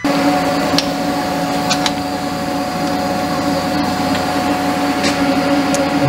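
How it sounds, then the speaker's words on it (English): A CNC mill runs a 1/8 inch ball end mill at 30,000 RPM, cutting a sprue into a plastic injection mold half. It makes a steady high-pitched whine and hum with occasional brief ticks, and a voice says one short word. "I'm using a 1/8 inch diameter ball end mill to cut the sprue for the plastic to enter the mold"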